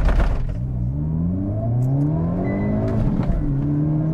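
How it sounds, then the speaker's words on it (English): A 2022 Hyundai Elantra N turbo sport compact with a six-speed manual pulls hard under acceleration. A loud, close engine note climbs steadily through the gear with a brief dip and light crackle, and nobody talks. "Nice pops and crackles from the exhaust."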